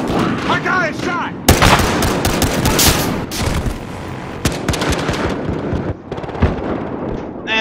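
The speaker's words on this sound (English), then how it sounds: "There's a guy who's shooting through an AC unit." Rapid bursts of gunfire in the video game Battlefield Hardline, a skyscraper battle with sharp repeated shots and heavy, dense firing, close and loud, broken by brief pauses and mixed with voices talking.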